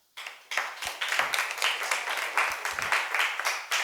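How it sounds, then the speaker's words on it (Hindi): An audience claps together during a classroom lesson on homogeneous mixtures, a dense burst of many hands that starts sharply and keeps up a steady, fairly loud patter for several seconds. "मजा आया तो एक बार ताली।"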